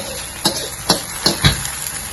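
Pork cubes and broccoli, with mushroom and red chili, stir-fry in a hot pan over high heat: a constant loud sizzle, close by, with four sharp scraping bursts as the spatula tosses the food.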